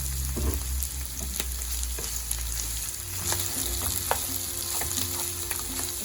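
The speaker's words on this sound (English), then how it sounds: "So we just blend in the vegetables with the rice" Chicken fried rice with vegetables being stirred and folded in a hot pan, a steady close sizzle broken by scraping utensil strokes, no talking.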